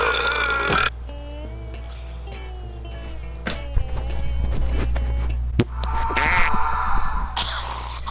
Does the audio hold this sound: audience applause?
no